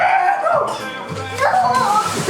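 A dog gives several loud, close barks and yips in quick succession, mixed with a person's voice.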